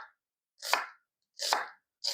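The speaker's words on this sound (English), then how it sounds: "get this half of a medium onion finely diced up" A knife chops down onto a cutting board, dicing half a medium onion in several sharp, evenly spaced strokes, close and crisp, with silence between each cut.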